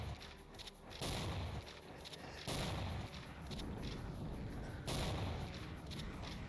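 Booming rocket explosions in the Doom Stronghold game, three heavy blasts about two seconds apart over a dense, continuous rumble of gunfire and combat noise.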